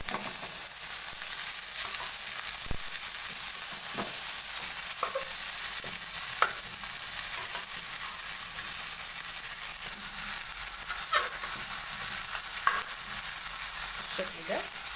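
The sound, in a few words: chicken pieces frying in a pan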